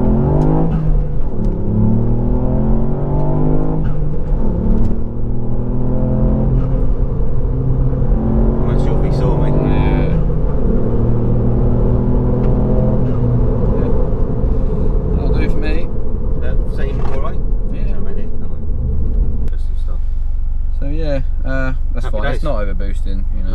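A Ford Fiesta MK8 ST at full throttle on a dyno pulls through second, third and fourth gears, each rising engine whine dropping at the shift, loud and close, with a voice briefly heard near the end.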